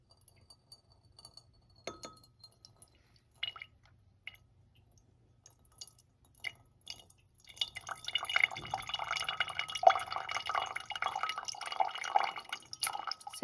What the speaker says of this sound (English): I want to pour just the liquid into the second flask.